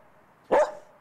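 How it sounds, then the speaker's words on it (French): A dog gives a single short, sharp bark close by, standing out against quiet background. "Le chien est là"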